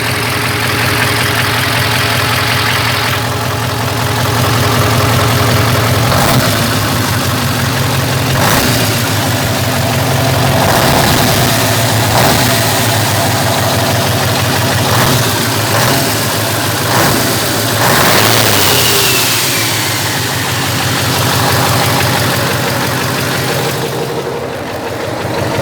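A V8 engine with its turbo removed idles loudly outdoors with a deep, lumpy, rhythmic rumble and a few sharper revs and knocks, continuous for the whole stretch with no talking.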